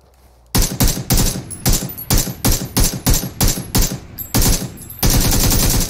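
Rapid bursts of automatic gunfire from the PUBG battle royale game, loud and close, firing in quick repeated volleys with short gaps, ending in a sustained stretch of shooting.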